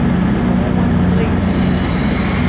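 A loud train rumbles close by at York station, a steady heavy rolling drone with rhythmic wheel noise throughout.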